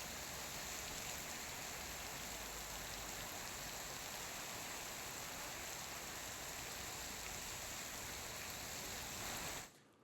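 Steady unseasonal rain falls in a continuous, even hiss with no breaks, close and moderately loud, spread over a wide wash of sound; no voices are heard, and it cuts off abruptly at the end.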